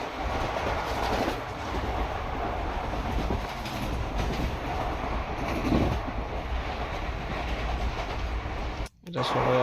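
Interior of a moving long-distance train from Pune to Howrah: a constant loud rumble and rattle of the carriage with rhythmic wheel clatter, and a brief dropout near the end.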